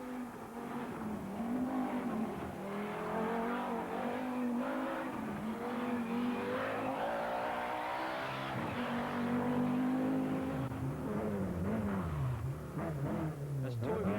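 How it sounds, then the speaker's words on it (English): Rally cars racing at the 1983 Rallye Monte-Carlo, including an Opel, with a sustained high-revving engine note rising and falling and tires squealing on the stage, heard under continuous commentary. "Guy Freckelin's splendid efforts in trying to keep his Opel in touch with the leaders is destined to end in an off-the-road excursion"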